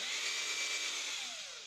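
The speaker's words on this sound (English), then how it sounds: "you could just take a drill bit and drill through" A drill bit bores through a homemade wooden fishing lure, giving a steady, close, high whine that runs unbroken, then dips slightly in pitch near the end as the bit slows.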